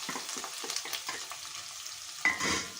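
Onion frying in melted fat and ghee for okra cooked without meat, a close, quiet sizzle broken by repeated stirring scrapes, with a sharper burst of sizzling near the end.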